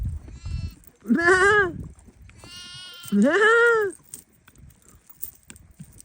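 A sheep and lambs bleat twice nearby, long wavering calls separated by a pause, with soft rustling and background sounds between them.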